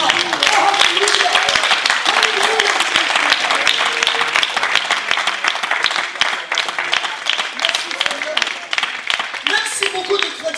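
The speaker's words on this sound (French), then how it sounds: "On doit l'acclamer ensemble encore une fois." Church congregation at a Sunday anniversary service clapping together in loud, dense, sustained applause, with voices calling out beneath the clapping.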